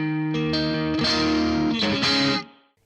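Electric guitar played through a BOSS ME-90 amp-modelling multi-effects unit with the spring reverb set low: a few distorted chords and single notes ringing out, then a short tail fading to silence.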